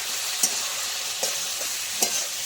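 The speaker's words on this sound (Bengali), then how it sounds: "হলুদ গুঁড়ো, সামান্য একটু লঙ্কার গুঁড়ো দিয়ে ঝিঙে আলুটা ভালো করে একটু ভেজে নেব" Ridge gourd and potato fry with turmeric and chili powder, a continuous close sizzle with a few brief stirring scrapes spaced about a second apart.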